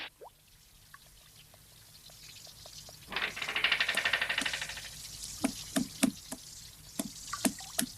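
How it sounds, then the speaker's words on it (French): Rain dripping as a shower starts to weaken, with scattered sharp drips and a brief pouring burst of runoff midway, then sparse, irregular drops close by, no voices. "On dirait bien que la pluie commence à faiblir."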